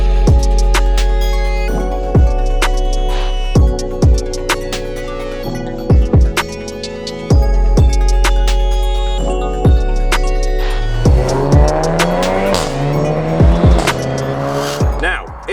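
A straight-piped BMW Z4 and a Golf R with an Akrapovic exhaust take turns revving hard, with loud repeated throttle blips, sharp rises and drops in engine pitch, and a rapid burst of revving near the end.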